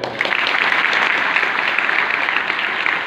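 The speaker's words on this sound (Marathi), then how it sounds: "त्यांच्याविषयी सगळ्या विद्यार्थ्यांनी टाळ्या वाजवायच्या" A hall full of students claps together at a university memorial function, honouring the women present, a dense, even roar of applause that stays loud and continuous throughout with no talk over it.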